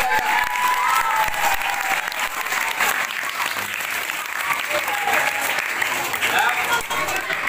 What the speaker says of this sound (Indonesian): Beri tepuk tangan kepada guru TK.